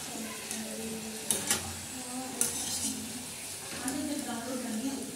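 Gujiya pastries frying in hot oil give a soft, continuous bubbling sizzle, with a few brief clinks of a utensil and a faint voice in the background.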